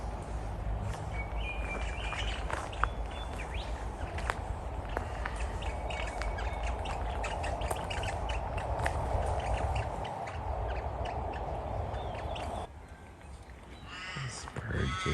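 Birds call and chirp outdoors at the Port Arthur historic site in Tasmania, scattered tweets over a steady bed of wind and ambient noise, with brief louder calls near the end.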